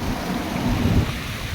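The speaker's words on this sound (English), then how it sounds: "taking a walk down and we just come to the waterfall" A waterfall at a park among mountains roars as a steady, broadband rush of falling water, close and continuous with no pauses.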